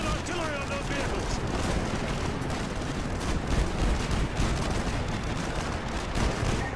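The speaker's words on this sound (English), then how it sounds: "use your laser designator to call in artillery on those vehicles." Artillery barrage in the military shooter Call of Duty: Modern Warfare 2, a dense continuous rumble of distant blasts and crackling gunfire with faint voice chatter mixed underneath.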